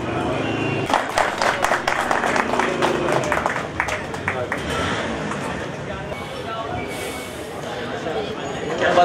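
Sparse, thin clapping from a small audience at a spoken gathering, a few scattered hands patting unevenly at moderate distance rather than a full ovation, continuing for several seconds.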